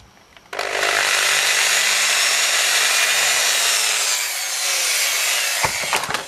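A drill with a 2.5 mm bit whirs loudly and continuously for several seconds as it bores a small hole, its motor pitch rising slightly, then cuts off abruptly.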